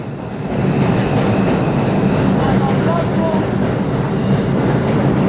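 A train rumbles loudly and steadily past at close range, its wheels clattering over the rails without a break.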